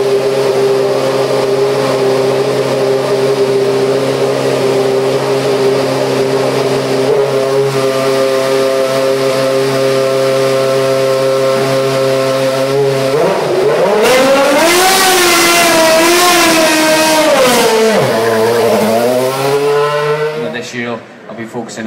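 GP3 race cars racing at Monza in a 2013 championship round, a loud sustained engine whine holding steady, then rising and falling through gear changes as cars pass, with a voice talking over it.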